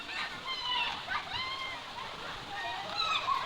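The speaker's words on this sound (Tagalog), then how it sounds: "Ayan, yung tuburan." Water gurgles and splashes continuously from a nearby spring, with brief voices murmuring faintly underneath.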